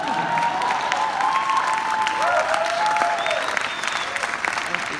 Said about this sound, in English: That's where you clap.